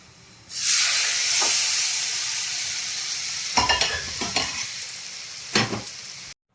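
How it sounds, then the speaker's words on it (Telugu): Tempering spices with asafoetida and fenugreek powder fry in hot oil for a pickle: a loud, steady sizzle and hiss starts abruptly, then several sharp scraping stirs break through near the end before it cuts off. "తాలింపు అయితే"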